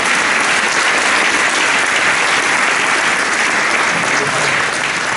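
A church congregation claps loudly and steadily for several seconds, a dense, continuous wash of applause filling the room with no break.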